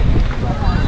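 Strong wind rising ahead of a hailstorm, a loud, close, rumbling roar that buffets the microphone, with a voice talking over it.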